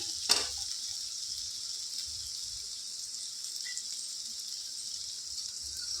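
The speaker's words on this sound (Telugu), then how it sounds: "చక్కగా ఇలా ఫ్రై చేసుకోవాలి" Okra fries in a pan with chili powder for an okra and egg stew, producing a soft, steady sizzle that opens with a single sharp clink of a utensil.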